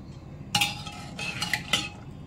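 A spoon clinks and scrapes against a bowl while turmeric is stirred into water, giving a few sharp metallic taps over about two seconds with no voices.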